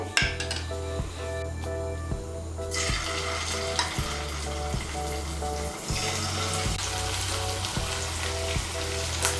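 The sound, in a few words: frying cornflour-coated chicken pieces in hot oil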